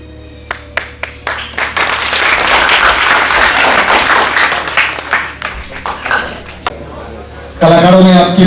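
Audience applause for performers at a stage show: a few scattered claps build into loud, sustained clapping that fades after several seconds, followed by a voice speaking.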